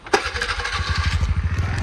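A motor in a motor room kicks in after a brief clatter, then runs with a fast, throbbing low pulse that builds to a steady, fairly loud hum.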